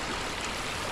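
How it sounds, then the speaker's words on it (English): Running stream near the Aira Force waterfalls, a dense, steady rush of flowing water filling the whole moment, close and loud with no voices. "So there's loads of different waterfalls around here."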